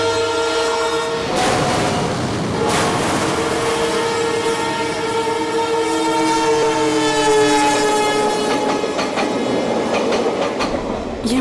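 A train at an odd, remote railway junction station, loud and close with sustained horn-like tonal blasts over continuous rumbling and rail clatter throughout.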